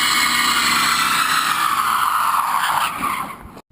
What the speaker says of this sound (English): Have you ever seen an electric golf cart do a burnout?